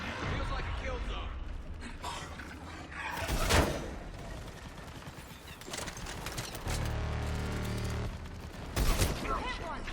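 Gunfire from the video game Mass Effect 3, with bursts of shots mixed into busy combat noise and a couple of louder blasts, heard among in-game voices.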